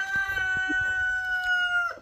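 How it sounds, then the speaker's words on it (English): Chickens in a barn, a close, faint bird call with a sustained tonal cry and a few soft clucks over low background noise. "I'm going to go ahead and check the chickens"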